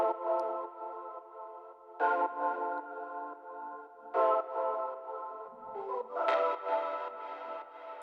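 A bright, bell-like synth plays sustained tonal notes with shimmering echoes, struck in repeated chords with a chorused, delayed tail.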